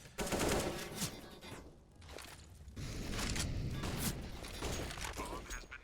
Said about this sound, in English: Ooh, good shots there from Sithis.